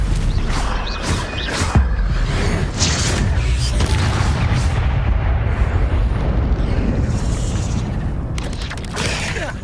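Spell-casting effects from the Hogwarts Legacy video game, a dense run of booming, bursting magical blasts and impacts that stay loud and continuous throughout, with no clear pauses between them.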